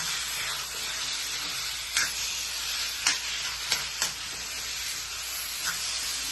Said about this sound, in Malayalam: ഈ വേവിച്ച് വെച്ച ചേനൻ ഇതിലേക്ക് അങ്ങോട്ട് ഇട്ട് കൊടുക്കും ഇങ്ങനത്തെ ടീൻചട്ടിയിൽ വേണം ഇത് ഉണ്ടാക്കാൻ